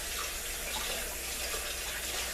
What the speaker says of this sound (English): let me throw this away and wash my hand a little bit